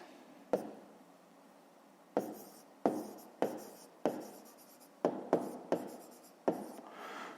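A pen scratches out numbers for a fifth-grade math exercise, with about nine distinct short writing strokes in bursts, close and clear, with no talking.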